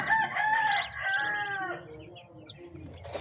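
Native and white broiler chickens in a backyard coop, a close rooster crow followed by softer clucking, with a faint high chirp near the end.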